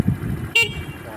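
A Skygo Bolt 150 motorcycle gives one short, bright toot of its horn that cuts in sharply between stretches of someone talking.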